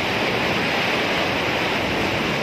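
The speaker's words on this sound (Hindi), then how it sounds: "पानी का बहाव बहुत तेज़ है" Fast-flowing water in the Hub Dam canal rushes steadily and loudly as a dense, unbroken roar with no voices and no pauses.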